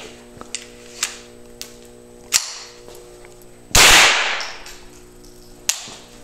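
A new gun fired once outdoors, a single loud sharp crack with a long decaying tail, set among a few fainter distant pops and a steady low hum.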